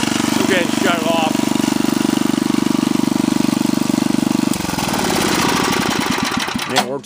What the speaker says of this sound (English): The engine's running okay.